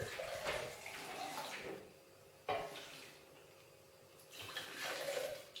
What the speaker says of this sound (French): Je me servirai de l'eau pour rincer le bocal. Voilà. Et ensuite j'incorpore mon eau.